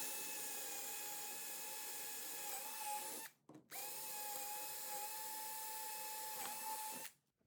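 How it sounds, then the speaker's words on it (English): A power drill with a 5/16 bit bores holes in a fireworks staging board, whining loud and steady in two long runs with a brief pause between, the pitch dipping slightly as the bit bites. "We're gonna wanna drill these holes down too"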